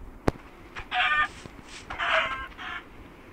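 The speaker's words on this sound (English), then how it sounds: "There's a chicken." A Minecraft chicken clucks in two short bursts of bright, chattering clucks, preceded by a sharp click, heard alone at moderate volume.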